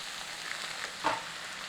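Beef mince frying in a pan, a soft steady sizzle with one brief louder hiss as it settles in.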